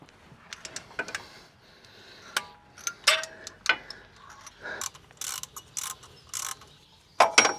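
A ratchet clicks in short, irregular bursts of sharp metallic ticks while the timing belt tensioner is removed from an Opel Corsa OPC Nürburgring Edition, close up with faint clinks between strokes.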